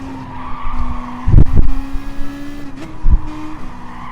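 Race cars, a Subaru WRX among them, run laps during a manufacturers' motor race, with a steady engine drone, tire squeal and a few sharp thumps, loud and close with no voices.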